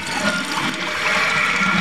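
A toilet flushes with a loud, close rush of water that swirls and drains steadily, with bubbling in the bowl.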